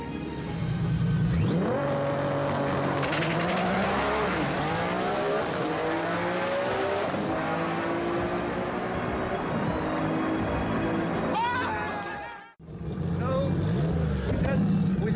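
A drag racing car makes a full run, its engine roaring loud and sustained as it climbs through the gears, cutting off abruptly near the end before a brief return of engine noise.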